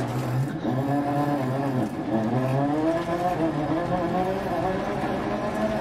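Volkswagen Polo rally car engine in the Dirt Rally video game, revving steadily with rising and falling pitch, loud and continuous, with faint talk underneath.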